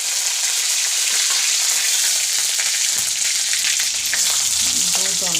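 Food fries in a pan in a dim home kitchen with a continuous, close, crackling sizzle, with stirring scrapes and a few brief clinks.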